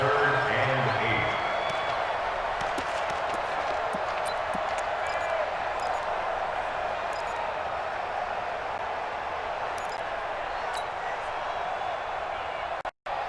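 A stadium crowd in Madden NFL 20 keeps up a steady cheering roar ahead of a big third down in an American football game. The noise stays at an even level throughout and cuts off briefly near the end.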